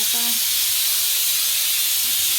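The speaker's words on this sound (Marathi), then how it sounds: "आता कुकर लावला आहे" Steady, loud hiss of steam escaping under pressure, continuous for the whole stretch, with a brief whistle-like tone at the start.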